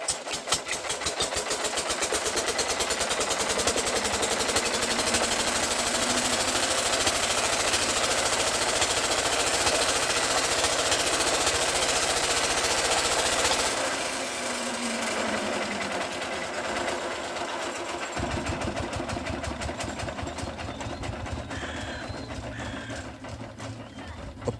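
An agricultural irrigation pump engine cranks and chugs in a loud, rapid mechanical clatter for about fourteen seconds, then drops to a rougher, quieter rattling idle before cutting out.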